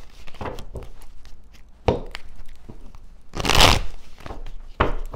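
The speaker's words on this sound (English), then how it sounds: "three more shuffles." Tarot cards are shuffled by hand in a few bursts of riffling and slapping, with a loud crackling flurry in the middle and sharper taps around it, all close and without talk.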